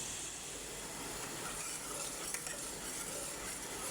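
Ground onion frying in ghee gives off a steady, close, even sizzling hiss with faint stirring, with no voices.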